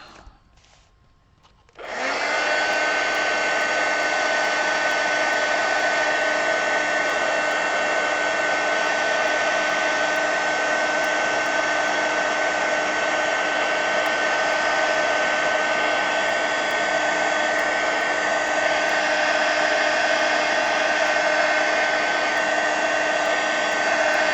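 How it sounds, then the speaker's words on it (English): A heat gun drying paint on artist trading cards starts after a brief quiet moment, then roars as a loud, steady blowing whoosh close by, holding constant without pause. "let me hit it with the heat gun"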